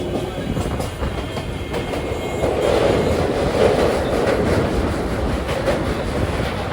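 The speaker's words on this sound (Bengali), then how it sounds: "আমাদের ট্রেন ছেড়ে দিয়েছে" Continuous rumble of a moving train from inside a carriage in India, steady rolling wheel noise with faint rhythmic clatter throughout.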